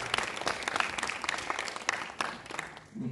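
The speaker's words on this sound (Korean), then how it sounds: "여러분 격려의 박수를 보내주시면 고맙겠습니다." A lecture-hall audience gives a professor steady applause, a dense close patter of many hands clapping throughout, easing slightly near the end.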